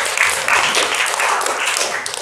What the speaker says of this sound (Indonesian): tepuk tangan untuk Alin